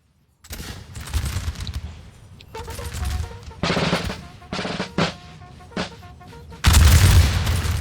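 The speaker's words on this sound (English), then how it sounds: "The Russians are firing now in the forest." Russian infantry volleys and artillery firing at Borodino in a Napoleonic battle video game, a crackling fusillade of musket shots swelling and pausing, capped by a heavy, loud artillery boom near the end.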